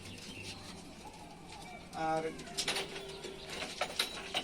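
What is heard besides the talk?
Rajshahi Giribaz pigeons cooing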